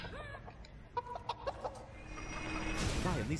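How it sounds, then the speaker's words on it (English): Chickens in the Family Guy video game cluck in a quick series of short, sharp calls, then a louder squawking burst near the end over a low game background hum. "It's a chicken!"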